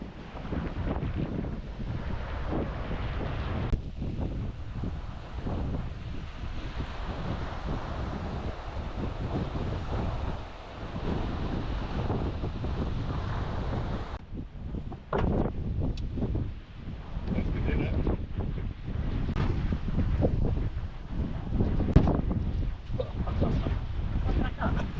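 Strong storm wind roars over a creek in croc country, buffeting the microphone in loud, gusty bursts, with water noise around a small tinny boat.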